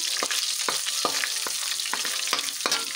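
Garlic and meat sauté in a pan with takway, a continuous close sizzle broken by regular spatula scrapes and stirs about every half second.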